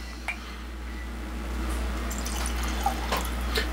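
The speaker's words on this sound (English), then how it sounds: "I'm going to pour a two-sipper here" Weller Full Proof bourbon poured into a glass, a faint, quiet trickle of liquid with a few small drips and splashes over a low background hum.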